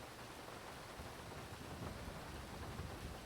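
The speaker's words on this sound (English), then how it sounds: "I was kind of listening to the rain there" Steady rain pours down in a broadband wash that swells slightly louder toward the end, with a low rumble like distant thunder underneath and no voices.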